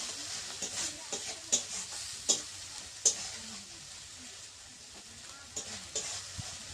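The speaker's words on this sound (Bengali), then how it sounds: "এবার ধনে পাতাটা দিয়ে মশলাটা একটু ভালোভাবে কষিয়ে নেবে।" Spice paste with coriander leaves is stir-fried in a village kitchen, giving a low, continuous sizzle broken by regular scraping stirs and sharp spatula clicks against the pan.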